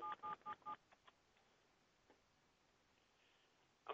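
Several short DTMF keypad tones pulse in quick succession as digits are dialed on a VoIP desk phone, followed by faint ticks and a brief tone at the end, with no talking.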